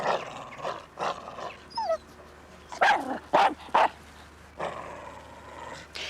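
Dog barking in a period comedy drama scene, several sharp barks clustered in the middle with whimpering yips before and a voice-like tail after, moderately close, mostly alone.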